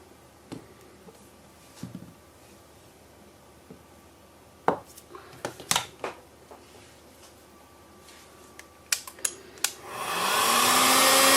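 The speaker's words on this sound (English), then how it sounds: "Heat gun's gone cool." Heat gun blowing hot air over freshly made cold process soap, a rising steady whoosh in the last seconds after scattered clicks and taps of handling nearby, no talking.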